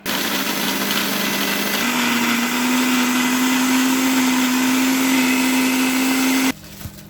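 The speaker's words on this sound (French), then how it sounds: "on commence par mixer les spéculoos avec le beurre fondu" A blender crushes speculoos biscuits with melted butter, running as a loud, steady whirring drone that rises slightly in pitch after a couple of seconds and then cuts off abruptly near the end.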